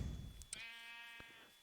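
A black sheep in Minecraft lets out a single clear, wavering bleat after a short burst of rustling, then fades into quiet.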